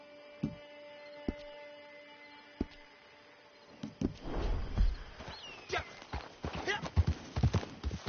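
Horse hooves clip-clop in an irregular run near a camp, starting sparse and quiet then growing busier and louder, over a faint electrical hum with muffled voices in the background.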